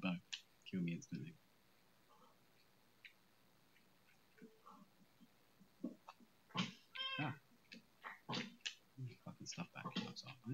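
Meows from a cat in modded Minecraft sound repeatedly amid clicking and busy game noise, with a person talking over much of it.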